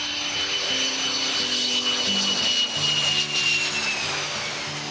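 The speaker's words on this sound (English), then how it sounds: "it takes a cargo plane to deliver all that has been donated" A cargo plane's engines whine and drone continuously at close range, a steady jet hum with a high tone and faint tones shifting underneath, no voices.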